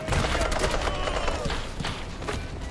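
Rapid bursts of Tommy gun fire in a video game, dense overlapping shots with scattered impacts running continuously and loud throughout.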